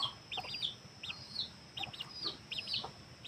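Backyard chickens, including small orange roosters and white-eared young birds, cluck softly in repeated short bursts, fairly close, with a faint outdoor hiss behind and no talking.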